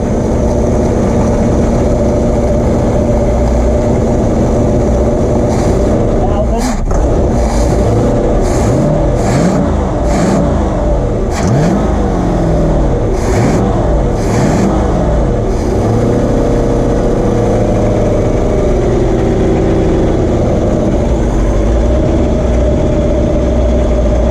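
A Crownline boat's small-block Chevy engine idles loud and close, a steady deep rumble with a few brief revs and clatters mixed in.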